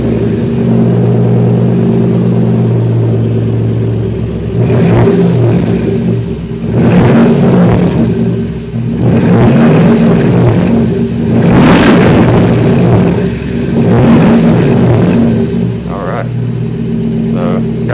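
A 1st generation Toyota Tundra 4x4 revs in a garage, its low engine rumble rising and falling in several blips over a steady idle drone, with some echo and a person talking over it.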